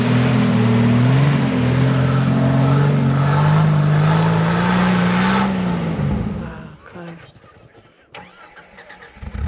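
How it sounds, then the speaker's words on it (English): An off-road vehicle engine revs hard, floored in third gear while climbing on snow on the Rubicon Trail in winter: a loud, sustained roar for about six seconds, then it drops away into quieter, uneven rumbling and crunching. "when I floored it in third gear, that almost got me up to the top"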